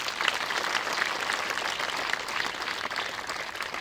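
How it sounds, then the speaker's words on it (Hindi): An audience claps steadily through a religious Ramkatha discourse, a dense, sustained wash of applause at moderate level, with no speech over it. "नारद मुनि के लिए जोरदार तालियां हो जाए"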